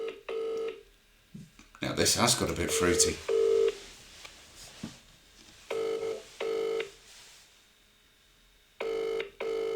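Phone tones dial out and ring in repeated short bursts, with a clustered run of dialing beeps early on, while someone talks quietly between the tones.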